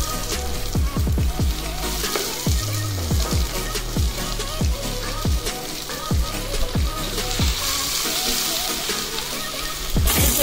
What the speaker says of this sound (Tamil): இப்போ இது நம்ம எடுத்து வச்சிருக்கோம் வெங்காயத்தை சேர்த்துக்கலாம்